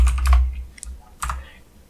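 Quick bursts of keystrokes on a computer keyboard, a cluster of clicks followed by a short pause and a second brief flurry, close and clear.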